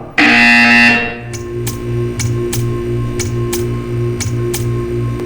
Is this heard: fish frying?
no